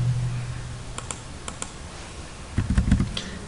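Computer keyboard typing a command, a few scattered close key clicks followed by a quick burst of keystrokes near the end over a faint low hum.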